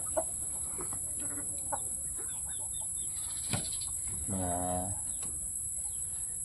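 Hens cluck around their nests while eggs are collected on a farm, giving soft scattered clucks and one longer, louder cackle, heard fairly close over a steady high electrical whine.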